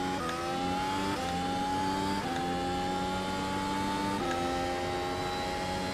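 A Formula 1 car's engine screams at high, steady revs on the Daytona road course in a racing video game, with brief dips at shifts or braking and sustained whine, loud and continuous with no talk.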